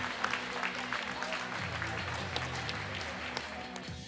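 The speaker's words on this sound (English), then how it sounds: "a standing ovation from the hometown crowd" Steady applause from a hometown crowd giving a standing ovation at the final buzzer of a girls high school basketball game, dense and continuous, with a voice talking underneath.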